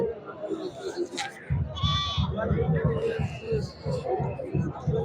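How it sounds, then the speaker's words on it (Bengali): Goats bleat at a busy winter livestock market, several close, wavering calls sounding over a constant crowd babble and nearby talk. "দুইটা ছাগল নিয়ে আসছে যে দেখেন দুটাই খাসি ছাগল"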